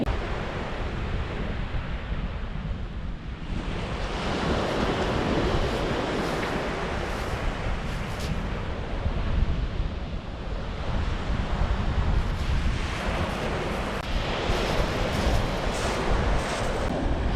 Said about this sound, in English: the wind's blowing quite hard right now